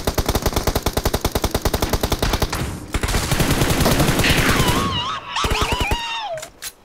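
Rapid automatic gunfire from the mobile battle-royale game PUBG Mobile: dense bursts for several seconds, then a continuous blast of shots with whistling ricochet-like tones near the end, loud and close.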